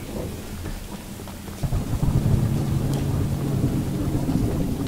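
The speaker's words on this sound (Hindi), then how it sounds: "बिजली कड़क रही है।" Thunder rumbles in the horror video game Choo Choo Charles, swelling into a deep, sustained roll over steady rainfall that continues throughout.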